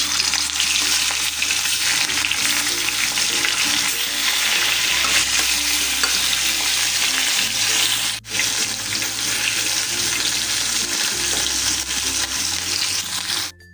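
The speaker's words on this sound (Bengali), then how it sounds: "আর এখন মাছ ভাজবো।" Fish frying in a pan produces a loud, continuous sizzle that holds steady for the whole stretch, with faint clinks and stirring underneath and no one speaking.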